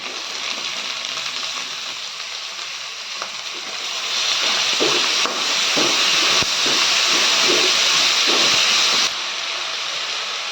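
Tomatoes go into a pan of ginger-garlic paste for macaroni, and a loud, steady frying hiss swells as they land, with a few stirring clicks, close and continuous.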